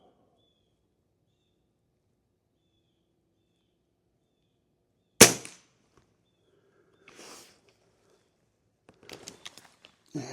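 A .22 Avenge X air rifle fires a sharp single crack in otherwise quiet surroundings, followed later by faint rustles and small clicks.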